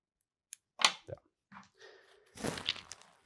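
Small scissors trim a brown feather while a parachute dry fly is tied, making a few soft, sharp snips and clicks in a quiet setting, with short pauses between cuts.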